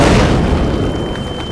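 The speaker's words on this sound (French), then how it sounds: "et soudain, l'obus a éclaté." An artillery shell explodes as a sound effect: one loud, close, deep boom that rolls away and fades over about a second and a half.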